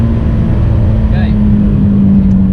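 A Renault Megane RS engine drones steadily and loudly on a race track at a track day, holding a constant pitch with a brief blip partway through, while a voice talks over it.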